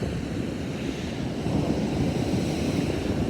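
Ocean waves along the Southern Oregon coast, a steady broadband roar of surf with some wind buffeting, swelling slightly louder midway through and continuing without speech.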